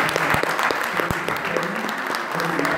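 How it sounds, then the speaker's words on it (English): A church congregation applauds in a continuous, fairly loud wash of clapping, with a few sharper individual claps and faint voices mixed in. "Can we give a clap for friends?"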